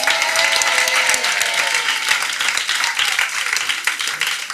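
A church congregation claps together in warm, sustained applause that fills the room, dense and steady at close range from start to finish, with no talking over it.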